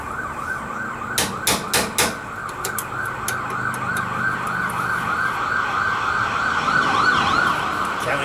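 A county police car's wailing siren sweeps up and down as the car speeds along a road nearby, loud and continuous over traffic rumble, with a few sharp clanks early on.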